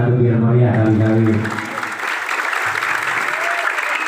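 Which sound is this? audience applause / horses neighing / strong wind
audience applause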